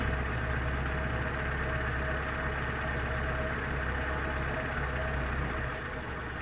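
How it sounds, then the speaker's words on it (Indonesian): An old carbureted T120 SS car idles nearby, a steady low rumble with a fine uneven chug and faint knocking, continuous and fairly loud with no talk. "Ya seperti ini suara mesinnya guys."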